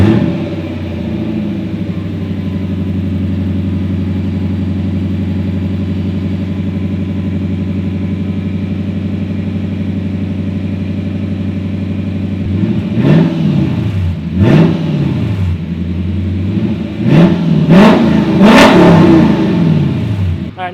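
A Lexus V8 engine idles with a steady low rumble, then is revved several times in sharp bursts, loud and close.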